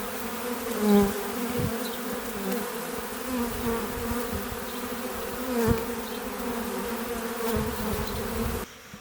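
A swarm of honey bees from hives nearby hums in a dense, continuous buzz, with single insects passing close now and then over the steady drone of the mass.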